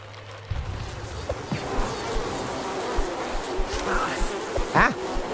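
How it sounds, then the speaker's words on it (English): Insects buzz steadily through a video game scene, a continuous droning hum at moderate level with a few brief louder swells, no talk over it. "Not the bees, not the bees."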